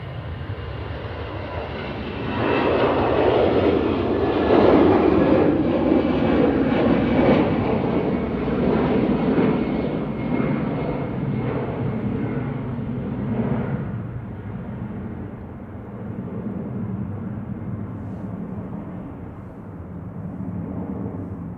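An easyJet airliner departing Manchester Airport for Basel gives a loud, sustained broadband jet roar that swells early, peaks, then slowly fades as it climbs away, with no talk over it.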